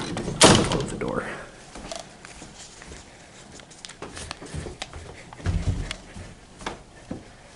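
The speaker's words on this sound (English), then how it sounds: "Close the door." A bedroom door in a family house shuts with one firm knock near the start, followed by quieter shuffling, footsteps and handling noise.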